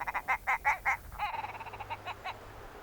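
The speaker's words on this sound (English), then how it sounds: "you usually hear the distinctive call of the grouse" Repeated throaty, croaking grouse calls in a quick series, then a faster run of chattering notes over faint background hum, on heather moorland.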